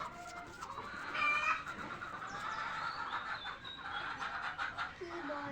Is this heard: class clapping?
no